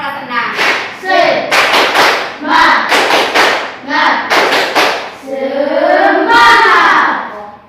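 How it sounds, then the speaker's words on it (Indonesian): A primary school class of sixth graders performs a rhythmic spirit clap in a classroom, loud bursts of patterned hand claps with thumps and group chanting voices, repeating in several sections over the stretch. "Tepuk semangat untuk anak kelas 6"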